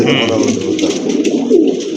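Pigeon cooing among birds kept for sale, low soft coos repeating under a steady murmur of background voices and bird noise.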